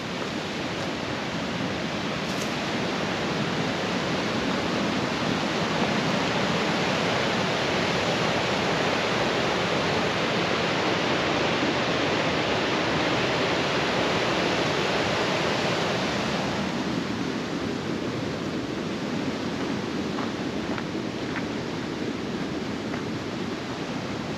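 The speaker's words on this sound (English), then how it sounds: "Creek is raging down below." A creek rages through a big gorge far below, giving a steady, loud, broadband roar of rushing water that holds unbroken throughout, with some wind mixed in and no voices.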